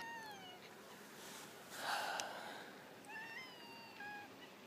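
A cat meows several times, one long rising call in the middle and shorter harmonic meows toward the end, close and fairly loud over faint background noise.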